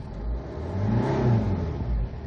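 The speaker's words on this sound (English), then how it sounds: "The sound of the engine also sounds good." A black 2007 Winstorm SUV engine revs up while accelerating, a close, rising mid-pitched drone that climbs and holds before easing slightly, with no talk over it.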